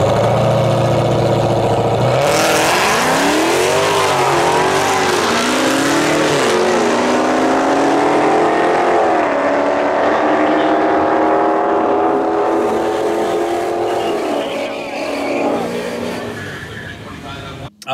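A Dodge Hellcat and a modified 392 car racing, engines roaring loud and close as they accelerate hard through rising gear pulls, the sustained howl fading slightly toward the end.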